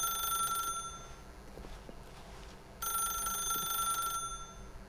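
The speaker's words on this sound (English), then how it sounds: "If you can truly place your faith in another, then pick up the phone." An old-fashioned telephone rings in the Stanley Parable video game, two bursts of bright electronic ringing separated by a quiet pause, clear and close.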